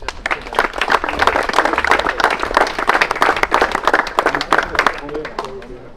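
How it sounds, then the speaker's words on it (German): Crowd applause at a turbo-kart race in Wohlen, cheering a kart racing team; dense, steady clapping fills most of the stretch and fades near the end, with voices mixed in underneath. "Ein riesen Applaus für Vogelsang Racing"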